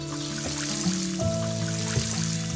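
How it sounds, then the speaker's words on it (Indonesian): Crops being watered in the farming game Doraemon Story of Seasons, a short trickling pour of water joined by soft chiming background music. "Kita siram dulu."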